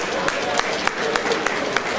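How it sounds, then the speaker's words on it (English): Applause for donors from the class of 1971 at a school centenary celebration, a steady crowd clapping at moderate level with a few sharper claps standing out. "Please, a round of applause for them."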